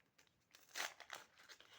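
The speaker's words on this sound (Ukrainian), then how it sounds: "треба порвати весь пакетик." A short crinkly ripping of a thin packet, one brief tear followed by rustling crackles, quiet and close.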